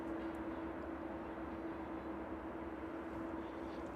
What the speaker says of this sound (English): 777 making its turn onto final approach now.